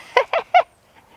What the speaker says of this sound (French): Il y a des tourterelles des bois dans mon jardin.